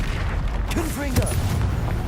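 A Confringo blasting spell explodes in the Hogwarts Legacy video game, loud rumbling booms and sharp blasts over a dense, continuous low roar, with a voice calling out briefly over the noise.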